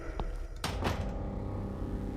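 A door opening in a video game, heard as a single thud and creak over a constant low ambient drone, with no talk.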